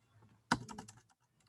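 Code is typed on a computer keyboard as a short, close burst of several quick clattering keystrokes, then quiet, with no talk.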